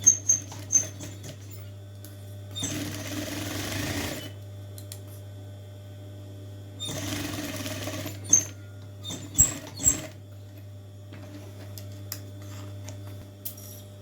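A sewing machine stitches a handbag seam, running in two short bursts of fast whirring separated by quiet gaps, with scattered small clicks and taps of handling around them.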